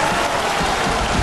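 Concert audience applauding conductor Riccardo Muti in an Italian opera house, a dense, steady wash of clapping with no voices heard.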